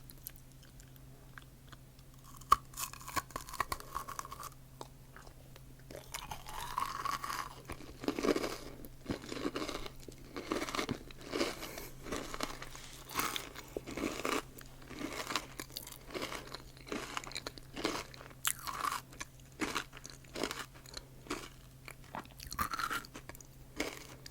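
Crystal candy is bitten and chewed up close, with sharp crunches and crackly chewing in an irregular rhythm, brief quiet pauses and no talking.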